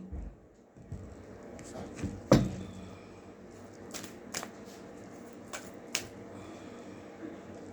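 Tarot cards are shuffled by hand in a quiet room, giving soft papery riffles with several sharp snapping flicks spread irregularly through the clip, close and fairly faint.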